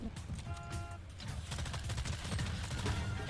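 Rapid gunfire in the video game Fortnite, bursts of shots crackling over a low rumble that builds toward the end, with a voice speaking over it.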